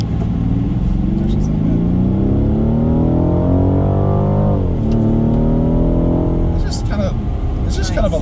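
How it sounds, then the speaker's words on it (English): A Rolls-Royce Wraith accelerates with a loud, rising engine note that climbs in pitch, dips at a gear change, then climbs again, close and steady, with road rumble underneath. "Kind of a lovely acceleration."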